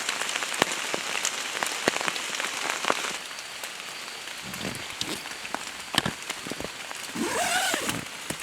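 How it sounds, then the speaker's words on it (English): Steady heavy rain pours during the rainy season on an abandoned South American highway, a dense close hiss with scattered louder drops and splashes throughout. "it's still raining. It's still pouring."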